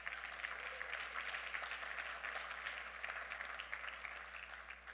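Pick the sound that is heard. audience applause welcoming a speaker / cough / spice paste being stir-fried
audience applause welcoming a speaker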